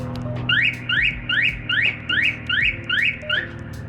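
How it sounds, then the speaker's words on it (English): An aftermarket six-tone alarm horn fitted to a Porsche 981, set off with the panic button, sounds a rapid series of about eight rising whoops close by over a low hum, with no talk. "And let's try out the alarm."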